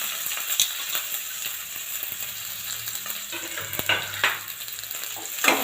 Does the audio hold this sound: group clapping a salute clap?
no